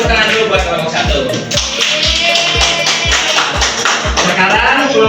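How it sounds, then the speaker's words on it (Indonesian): In a classroom, students clap for a group during a microteaching lesson on cells and transport. The claps come loud, close and in a steady rhythmic beat, with a lively wash of busier clapping and chatter between them. "beri tepuk tangan dulu buat kelompok 1"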